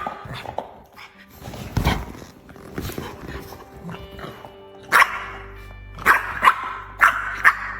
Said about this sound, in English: Dozer is a Rottweiler.